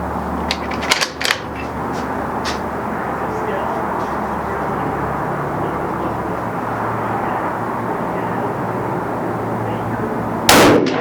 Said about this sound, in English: let's fire a few more rounds